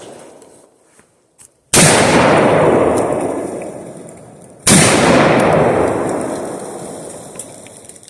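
Two loud outdoor rifle shots from a Remington 7400 Woodsmaster semi-automatic, each a sharp blast followed by a long rolling echo decaying over several seconds, a few seconds apart.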